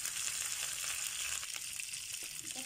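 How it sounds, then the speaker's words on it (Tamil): Mustard seeds and curry leaves frying in hot oil for a mutton pickle, a steady bright sizzle with crackling that stays even and close throughout. "கொஞ்சம் கடுகு போட்டுக்குவோம். அதுலேயே கொஞ்சம் கருவேப்பிலை போட்டுக்குவோம்."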